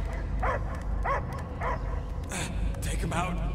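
A dog barking in the Marvel's Guardians of the Galaxy video game, several short spaced yelps and whimpers, then people talking over it in the second half.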